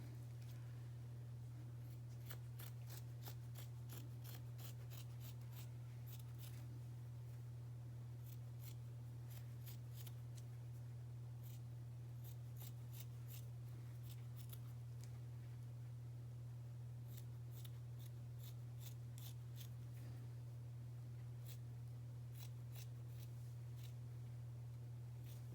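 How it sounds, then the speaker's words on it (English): Small scissors cutting a T-shirt into yarn: a long run of quiet, crisp snips in uneven bursts, close to the mic, over a steady low electrical hum with no talking. "These little scissors are sometimes hard to use, but they still do the job."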